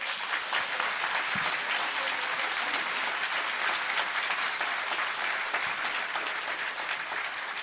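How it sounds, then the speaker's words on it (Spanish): A church congregation gives sustained, dense applause that holds at an even level for the whole stretch, loud and close with no voices above it. "Más fuerte ese aplauso, hermanos, para la gloria de nuestro Dios."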